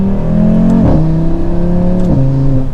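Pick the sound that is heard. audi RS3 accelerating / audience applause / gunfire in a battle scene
audi RS3 accelerating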